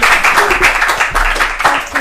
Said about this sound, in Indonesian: Boleh dong tepuk tangan semuanya.